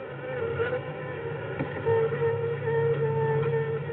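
Wasps buzz steadily at close range, a continuous droning hum with slight wavering in pitch that holds throughout without pauses.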